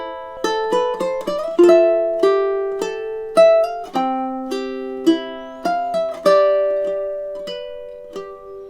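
Ukulele plucking measures 5 and 6 of a piece: a clear, close melody of bright single notes and ringing chords, played alone at a gentle, steady pace.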